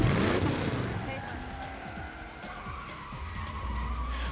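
Car tires screech and skid in the Need for Speed Most Wanted racing video game, with engine roar beneath a continuous sliding squeal that is loud and sustained throughout.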